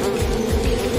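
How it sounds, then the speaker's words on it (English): Bees swarm over a person in a stunt challenge, their buzzing a continuous loud drone with faint low rumbles underneath. "There's a lot of bees. It is a lot of bees."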